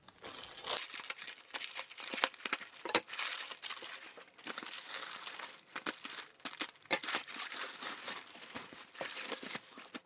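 A Temu parcel wrapped in a ball of plastic is torn open by hand, giving close, continuous crinkling, rustling and tearing bursts at a fairly quiet level.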